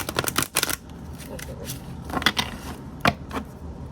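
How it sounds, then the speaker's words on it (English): Quick riffling bursts of tarot cards being shuffled close by, a rapid flurry at the start, then a few sharper snaps and taps. "we'll shuffle it and then we'll cut it"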